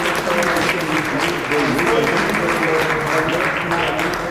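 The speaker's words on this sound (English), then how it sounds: "Please give them a round of applause." A crowd breaks into sustained applause, steady clapping close by with a few voices mixed in.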